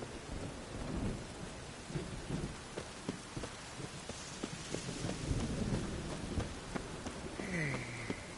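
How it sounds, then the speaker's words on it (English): Thunderstorm in The Witcher 3 video game: steady, dense rain hisses throughout while low thunder rumbles roll underneath, with no voices. "A storm, damn it."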